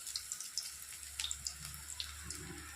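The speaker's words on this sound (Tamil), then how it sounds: "நம்ம எண்ணெயில் வச்சு பொரித்து எடுத்துக்கிறோம்" Lentil balls deep-fry in hot oil, giving a soft, continuous sizzle and fizz dotted with small crackling pops, faint and close.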